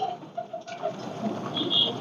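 Pakistani breeder pigeons coo softly in a short, low, murmuring burst, close by, with no voices.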